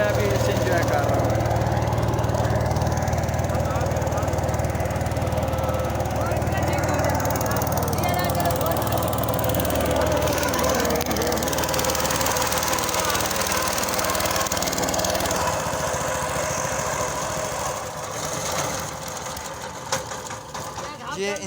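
A boat's engine chugs steadily on the Chenab river, a constant low mechanical drone with a rattling buzz, loud and close, then it drops away near the end as the engine is shut off.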